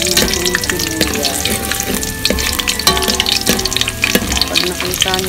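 Garlic and onion frying for chicken puchero, sizzling loudly and continuously close up, with stirring clatter and scraping in the pan.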